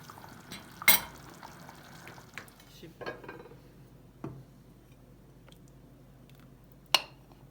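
Sour topalak stew with parsley stirred in a pot: a faint bubbling background with a few distinct spoon knocks and clinks against the rim, spaced apart and close, no talking.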